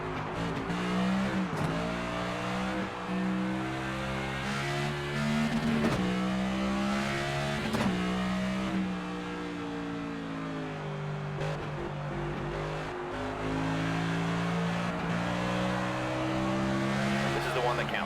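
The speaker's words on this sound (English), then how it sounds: "Drivers are on the track, battling the clock for a shot at the pole." Race cars in the NASCAR 25 video game lapping the track during qualifying, a steady, loud engine drone with shifting pitch sweeps as cars accelerate and pass, continuous throughout alongside voices.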